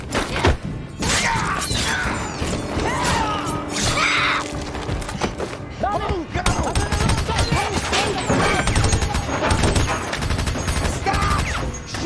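Gunfire in a chaotic action-film battle from Logan, loud bursts and impacts layered with crashes, shouting voices and a dense score throughout.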